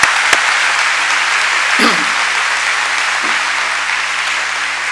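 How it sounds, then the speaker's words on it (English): An audience at a school convocation applauds in a steady, sustained wash of clapping that fills the room, with a couple of brief thumps partway through. "Let's give them another round of applause."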